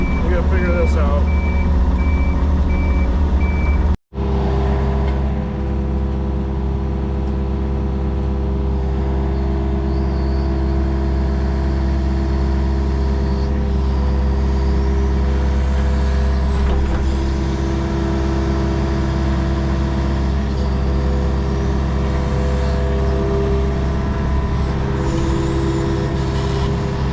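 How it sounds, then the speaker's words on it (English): A Yanmar excavator on a gas pipe job rumbles with a loud diesel drone while its reversing alarm beeps steadily over the engine, close by. The sound drops out for an instant early on, then the engine noise and beeping resume. "Yanmar excavator here we're using."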